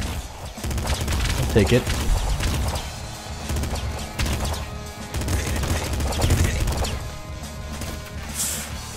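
Assault rifle fire in the top-down shooter Nuclear Throne: rapid crackling bursts and impact crashes over steady game music, with someone speaking briefly.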